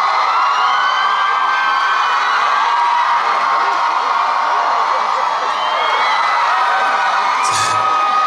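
Concert crowd at a Korean university festival performance by a band, cheering and whooping steadily throughout, a dense continuous roar of voices with no break.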